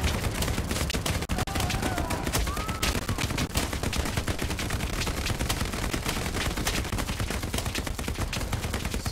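Dense, continuous gunfire from an aircraft strafing run in a World War II video game, a loud unbroken clatter of rapid shots and impacts that fills the whole stretch with no pause.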